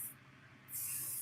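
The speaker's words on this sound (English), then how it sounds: "I always spray the insides as well" An aerosol can sprays paint onto the inside of a zombie-themed GoatGuns model gun set in two short hissing bursts, a brief one followed by a steadier spray after a pause, close and fairly quiet.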